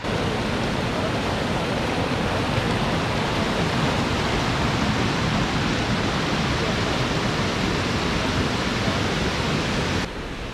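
Waterfall in a Colombian landscape, a steady, loud broadband roar of falling water that fills the whole stretch without pause, with no voices over it.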